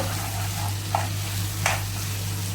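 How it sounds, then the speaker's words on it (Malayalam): Chicken roast (perattu) frying in a pan with a steady close sizzle throughout, plus a couple of soft scraping stirs, no talk. "ഇനി തുടർച്ചയായി ഒരു അഞ്ച് മിനിറ്റ് നേരം ഇതുപോലെ ഇളക്കി കൊടുത്തുകൊണ്ടിരിക്കുക"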